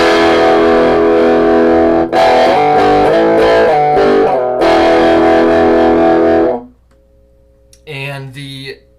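Distorted chords from a Squier Telecaster with a hot rails minibucker, split middle pickup position, ring out in several strummed bursts, then fade to a faint hum before a short final strum.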